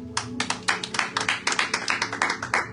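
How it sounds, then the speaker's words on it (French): A congregation at a Sunday church service claps in a quick, steady rhythm, the crisp hand claps close and clear and mostly in unison, with no voices over them. "Acclamons pour la parole de Dieu"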